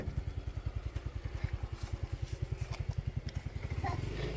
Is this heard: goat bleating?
no